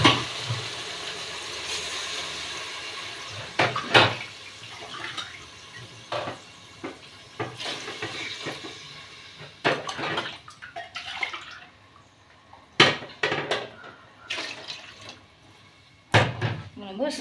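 Water splashes and pours into a pot in bursts, with clattering kitchen noises and a voice speaking in between.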